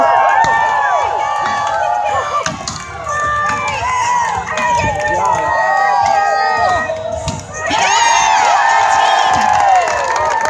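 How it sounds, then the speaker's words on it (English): A crowd cheers, shouts and whoops at a lumberjack show, a loud, continuous outdoor roar of many voices with children's shrieks rising and falling, swelling again near the end. "Keep cheering along."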